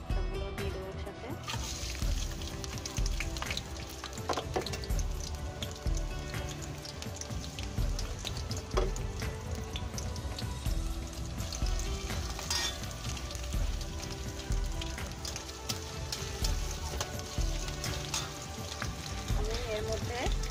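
Onion, garlic and green chillies fry in hot oil for a cabbage and egg dish, a dense continuous crackling sizzle with scattered pops, fairly close, with faint voice-like sounds at times.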